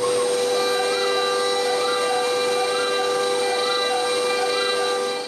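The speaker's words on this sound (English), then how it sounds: "After zeroing the bit, it's possible to cut the holes for the magnets." A CNC router spins its bit while cutting holes for magnets into a wooden scenery plaque, a steady high-pitched whine with faint rhythmic rising and falling tones as the cutter moves through the wood, alone and constant.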